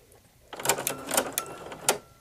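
A Baby Lock sewing machine fitted with a ruffling foot starts up after a quiet moment, stitching in short, uneven bursts with sharp mechanical clicks, close by, with no talking.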